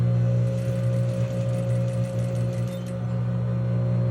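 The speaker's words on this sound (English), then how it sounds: "Just sew it slowly" A sewing machine stitches fabric slowly, a steady whirring hum with a faint rapid needle rhythm, close and even, easing slightly toward the end.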